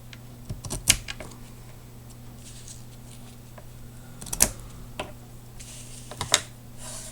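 Paper card being trimmed for a step card: three sharp, separate cutting snips sound close by, spaced a few seconds apart over a faint steady hum.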